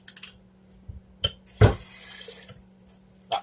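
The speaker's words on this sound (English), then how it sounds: "rinse it out in water" Tap water runs and splashes into a jar being rinsed out in a home kitchen, with soft trickling, a few clinks and one brief louder splash near the middle.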